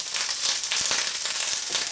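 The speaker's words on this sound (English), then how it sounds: "we're just going to cook this over a medium to high heat for a couple of minutes until the bacon is cooked" Bacon sizzles in a pot over medium-high heat, a bright, steady frying hiss with small crackles and pops, heard close and alone.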